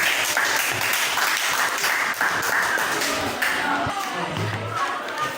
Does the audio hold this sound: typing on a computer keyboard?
no